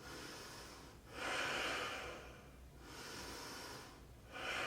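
Slow, deep yoga breaths drawn in and let out through the nose and mouth, a few long airy inhales and exhales in a steady rhythm, close and fairly soft with no talking.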